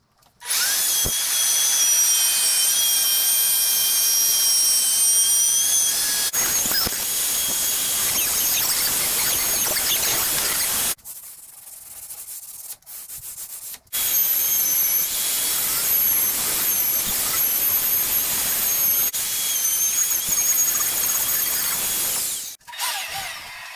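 A router cutting grooves in wood for pantry doors screams loudly at high pitch in long runs, dropping out for a few seconds midway before starting again and cutting off at the end.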